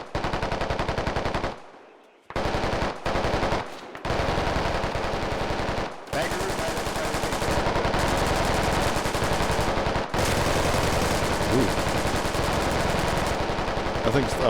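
Sustained, loud automatic gunfire in the tactical shooter Squad, with near-continuous bursts broken by a few brief pauses and chattering on for over ten seconds.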